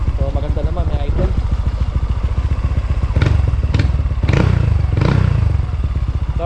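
A Yamaha Mio M3 scooter engine fitted with an RVN big valve head runs close up with a steady rapid putter, mechanical clatter and a few louder thumps partway through.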